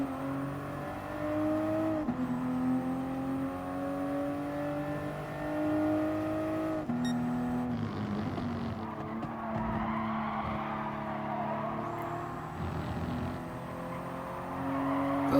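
Toyota Supra race cars lapping Fuji in GT Sport, engines droning steadily with rising and falling revs, tires skidding and squealing through corners, continuous and loud throughout.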